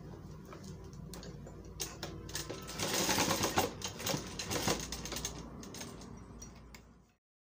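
A sewing machine stitches the collar of a sherwani in a fast mechanical rattle that speeds up and stays steady for several seconds, then slows and stops, close with no talking.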